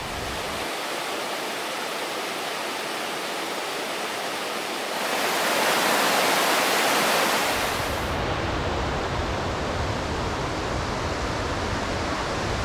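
Forest stream in the Carpathian wilderness flowing steadily with a broad, constant rushing wash, close by and loud, swelling briefly midway, with no voices.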